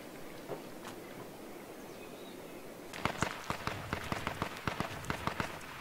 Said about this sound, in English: There's gunfire in the distance.